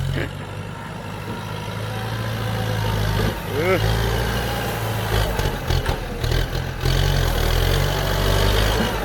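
A Kubota 108S tractor drags a ripper through soil, its diesel engine droning steadily and loud nearby, surging and straining slightly midway, with a few sharp knocks and clatters near the end.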